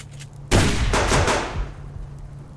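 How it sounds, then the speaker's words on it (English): A gun fires several shots in quick succession, starting with a loud, sharp report and followed by a rapid cluster of bangs that echo and fade over a couple of seconds. "I'm firing several times quickly just to try and get the bullets into them"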